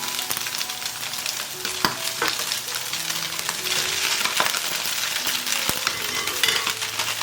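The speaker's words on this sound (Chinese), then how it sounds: "炒均匀了就可以加入米粉。" Rice noodles with egg and vegetables are stir-fried in a wok, giving a steady sizzle with repeated scraping and clinking strokes of the spatula throughout, with no voices.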